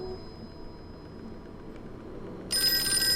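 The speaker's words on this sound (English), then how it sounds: "Oh, ominous ringing." In the video game Call of Cthulhu, a low, steady ambient hum is broken near the end by a telephone suddenly ringing, a bright, metallic ring that sounds loud and close, with no voices.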